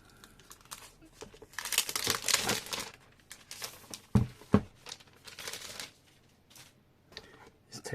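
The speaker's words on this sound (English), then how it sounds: "so let's unwrap this" Plastic wrap peeled off a new OnePlus Pad 2 tablet during unboxing, with bursts of close crinkling and tearing, a couple of sharper rips, then quieter intermittent rustles.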